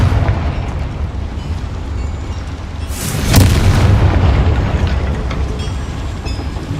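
A Confringo blasting spell in Hogwarts Legacy erupts into a loud, booming explosion about midway through, rising over a steady low rumble of game ambience and then fading slowly.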